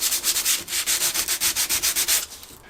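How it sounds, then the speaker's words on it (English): Sandpaper scuffs the painted finish of a Partscaster-style electric guitar body in a relic job, making about fifteen quick, even back-and-forth strokes, close and clear, with no voices. "So I'm just going to scuff the finish,"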